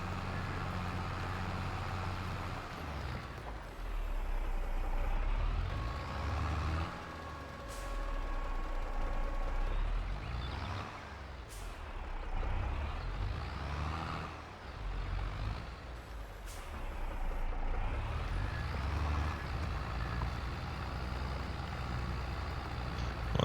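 Tractor engines in Farming Simulator 22 rumbling and shifting pitch as the machines move, with short sharp bursts that fit air-brake hisses scattered through, moderately loud and continuous.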